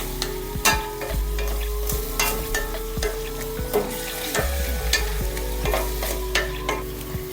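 Tomato puree frying over a low flame in a pan for a paneer matar masala curry, with a steady sizzle and repeated stirring scrapes throughout.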